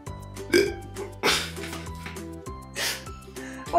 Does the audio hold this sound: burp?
yes